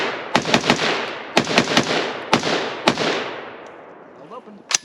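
Rapid semi-auto shots from an HK MR556A1 rifle emptying a magazine at an outdoor range, sharp loud cracks in quick clusters of two or three with brief pauses, trailing off toward the end before one last shot.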